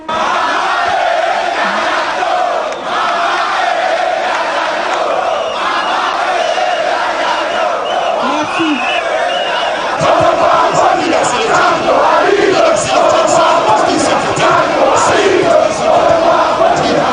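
Thousands of MRC party supporters cheering at an outdoor political rally, a dense, continuous roar of shouting voices that swells louder about halfway through and stays strong to the end.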